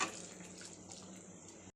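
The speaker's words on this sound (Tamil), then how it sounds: "அரைச்ச மசால் தண்ணியை ஊற்ற வேண்டும்" Ground masala water pours from a vessel into a pan of brinjal curry, making a steady splashing liquid rush that stays even for almost two seconds and cuts off sharply at the end, with no voices.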